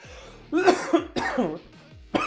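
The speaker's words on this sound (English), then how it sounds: "A bit of a coughing fit." A man breaks into a coughing fit, several harsh, close coughs in quick bursts with short gaps, one coming after a longer pause, with no talking in between.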